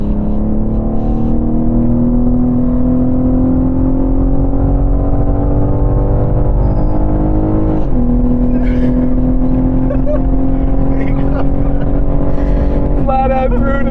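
A BMW M3 Competition screams flat out around a track, its engine note climbing steadily through the gears with sharp drops at each upshift, loud and close throughout, with faint talk in the background.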